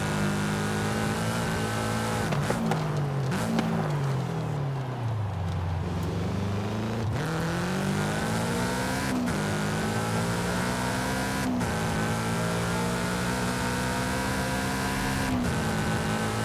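Car driving a track course in an MF Ghost setting, loud engine revving up and down with sweeping pitch through gear shifts, a dip and climb around the middle, continuous and close.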